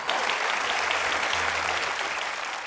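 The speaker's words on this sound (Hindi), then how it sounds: "आप सबकी जोरदार तालियों के बीच में इनवाइट करना चाहूंगा" A studio audience at a television comedy show gives sustained, even applause for arriving guests, a loud, steady roar of many hands clapping throughout.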